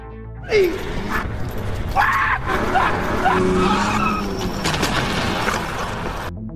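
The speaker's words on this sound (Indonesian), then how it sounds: "langsung naik ke mobil, dan langsung tancap gas" A car in a film peels off at speed, tires squealing and skidding over a roaring engine, with loud bursts of screeching near the start and middle.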